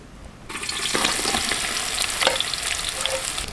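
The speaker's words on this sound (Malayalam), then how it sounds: "അപ്പോൾ ചൂടായ നമ്മുടെ എണ്ണയ്ക്കകത്തോട്ട് നമുക്ക് നമ്മുടെ സവാള ഇട്ട് കൊടുക്കാം." Sliced onions dropped into hot oil in a pan burst into a loud, steady sizzle that begins abruptly and continues evenly, with a few faint clinks of stirring and no voices.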